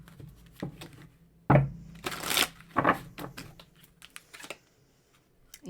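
Tarot cards from a Love Empire deck being shuffled by hand in a quiet room, a string of soft riffling bursts and crisp snaps, with one louder flurry near the middle.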